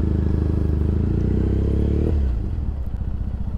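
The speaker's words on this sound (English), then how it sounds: "it's definitely difficult to hear the audio with this obnoxiously loud Bonneville" A Triumph Bonneville motorcycle engine heard while riding, a loud close steady exhaust drone that suddenly drops in pitch and eases off about two-thirds through, then settles into a lower rumble.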